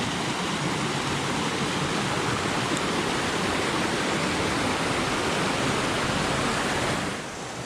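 Water rushes steadily at Laurel Falls, a broad, loud, continuous roar of falling water that holds nearly unchanged throughout and drops off slightly at the very end, with no voices.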